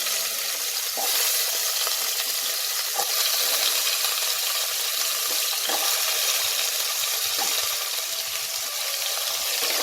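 Diced unpeeled potatoes dropped into hot spiced oil in a pan for sweet-shop style cholar dal, producing a loud, continuous close sizzle that hisses evenly throughout, with no one speaking.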